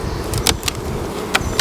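Honey bees hum from an opened hive, a steady, close buzzing drone broken by a few sharper buzzes as individual bees fly past.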